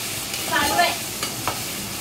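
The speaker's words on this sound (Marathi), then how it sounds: "हे आपण उकडलेले बटाटे तेलात टाकतो. असं हे भाजून घेऊया." Boiled potatoes fry in hot oil for sabudana khichdi, a close, soft steady sizzle with a brief stirring swell midway and a couple of light scrapes.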